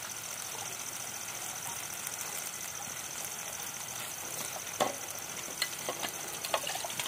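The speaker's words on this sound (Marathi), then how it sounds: "म्हणजे याच्यात पाणी ऍड करायचं आहे." Water is poured into a ground spice paste for a chicken liver gravy, a steady wash of liquid noise throughout, with a few small clinks and splashes near the end, close and moderately loud.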